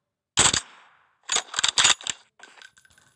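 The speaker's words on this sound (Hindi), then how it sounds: "इन पे बंदे M4 चला रहे हैं" M4 rifle fire in the mobile battle royale game PUBG Mobile, a single sharp shot followed by a quick burst of several rapid cracks and fainter trailing shots, crisp and close with no talk.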